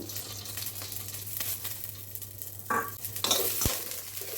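Green chillies fry in a little oil, giving a close, steady sizzle broken by stirring and utensil knocks against the pan.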